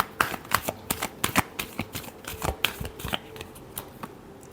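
Tarot cards being shuffled by hand, a quick close run of crisp riffling flicks and taps in an irregular rhythm, soft and alone in a quiet room.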